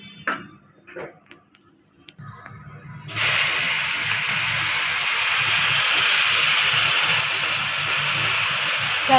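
After a few quiet clicks and knocks, a loud, steady hiss of frying in oil starts and continues without a break.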